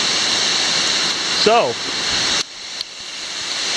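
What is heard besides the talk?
waterfall at Kubah National Park, Malaysia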